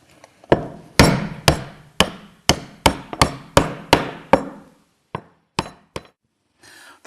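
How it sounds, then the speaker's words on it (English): A hammer strikes two halves of a Roxtec sealing panel into place during an outdoor RBS 6000 installation, with a dozen sharp metallic blows in an uneven rhythm, close and loud, separated by brief silences. "Now we hammer the two into place."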